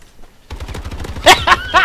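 Gunfire from Call of Duty: Advanced Warfare during an online PS4 multiplayer match, a low rapid rattle followed by three loud, sharp bursts close in the mix.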